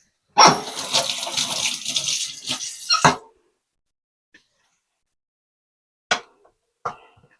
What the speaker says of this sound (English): I'm gonna wash my knife.